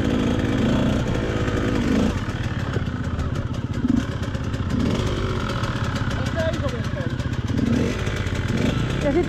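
An enduro motorcycle engine runs steadily at a training camp with light throttle and clutch, a close, continuous rough drone that swells slightly a few times.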